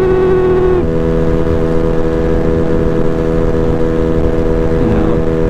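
A Honda Ruckus scooter fitted with a new CVT belt runs under way, its engine giving a steady harmonic drone that shifts pitch as the throttle changes, with wind rumble throughout.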